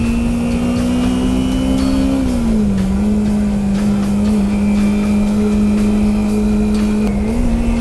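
A 2005 Honda CBR600F4i sport bike cruises along, its engine a loud steady drone that dips slightly as the rider shifts, with heavy wind noise and no talking.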